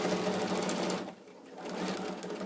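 A sewing machine runs in a close, steady buzz as it stitches a zip onto a fabric iron and tool caddy, easing off briefly midway before resuming its continuous whir.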